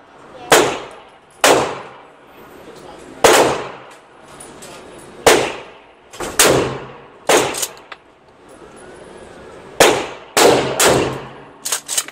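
A Remington 870 12-gauge pump shotgun fires in a video game, about a dozen loud, sharp blasts in irregular bursts, each followed by a short decaying echo. Quiet background noise fills the gaps between shots.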